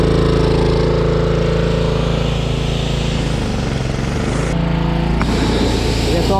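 Small gasoline pressure washer engine running loud and steady up close after a carburetor cleaning, washing mildew off a deck, with a few shifts in tone near the end.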